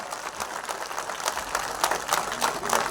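Members of a press workers' union meeting clap together in a steady round of applause, moderately loud, with individual hand claps standing out near the end.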